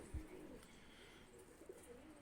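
Pigeons of the kaane wali breed coo softly in the distance, a faint low murmur with a couple of brief thumps over quiet background noise.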